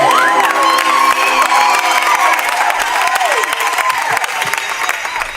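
A church congregation cheers and ululates loudly and continuously, high warbling trills and whoops rising over a dense crowd roar with shouts, some children's voices among them, sustained throughout.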